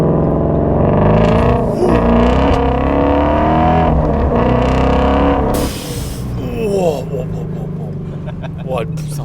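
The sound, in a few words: Ford Mustang Shelby GT350 accelerating hard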